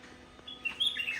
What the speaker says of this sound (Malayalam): നോക്കട്ടെ എത്ര കിളി അവിടെ.